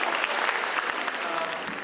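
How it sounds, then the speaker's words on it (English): A crowd at a student mass prayer gathering in Bangalore applauds to welcome speakers onto the stage: dense, even clapping throughout with faint voices underneath. "Huge round of applause"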